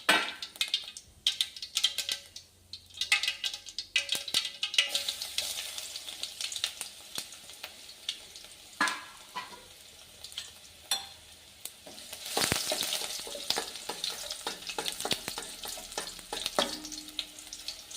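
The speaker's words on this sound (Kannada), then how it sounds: "ಸ್ವಲ್ಪ ಗೋಲ್ಡನ್ ಕಲರ್ ಬರುವವರೆಗೂ ಹಾಕ್ಬೇಕ್ರಿ ಇದು ಬೆಳ್ಳುಳ್ಳಿ" Garlic frying in a pan for tamarind sambar, a light, uneven sizzle with intermittent stirring scrapes and utensil clinks, a louder hissing surge partway through, close and quiet overall, no speech.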